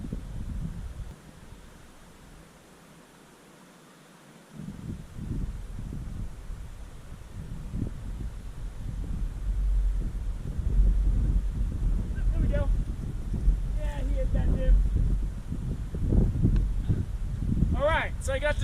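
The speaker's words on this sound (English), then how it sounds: "That wind is a bear." Wind gusts across a mountain lake in the Hoover Wilderness, a steady broadband rushing and buffeting against the microphone, briefly dropping low early on before building to a sustained roar, with faint intermittent higher tones late.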